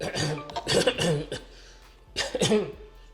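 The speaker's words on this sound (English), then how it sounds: "Let me clear my throat, right?" Two short throaty bursts of clearing, close and fairly soft, with a brief quiet gap between them.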